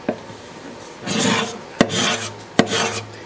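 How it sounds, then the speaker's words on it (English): A hand scraper draws across the back of a vintage Gibson L-00 guitar, stripping old finish in rasping strokes, three or four scrapes with sharp taps between them, close and clear without speech. "I'm mostly just using the scraper."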